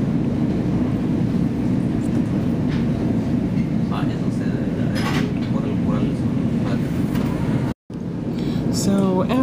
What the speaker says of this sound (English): our train has several Comet 5 coaches on it, and we also have an Alp 45